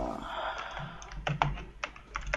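Sharp mouse clicks while playing Elder Scrolls Online, a few quick separate taps spread over a couple of seconds, close to the microphone, over faint game background sound with no talking.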